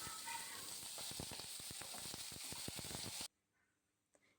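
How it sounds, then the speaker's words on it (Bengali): Brinjal frying in hot oil with panch phoron, a bright hissing sizzle crackling with quick pops for about three seconds before it cuts off abruptly into near silence. "তারপরে বেগুনটা দিব। বেগুনটা দিলে একটু বেগুনটা ভাজা ভাজা হয়ে যাবে।"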